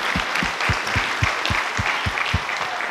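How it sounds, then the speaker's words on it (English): Rhythmic clapping, roughly a dozen even claps at a steady pace, close and moderately loud against a soft background murmur. "Let's give him a clap."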